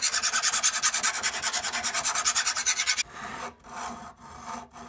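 A hand file rasping along a hand-forged knife blade in quick, steady back-and-forth strokes, loud and close, then slowing to a few slower, softer strokes.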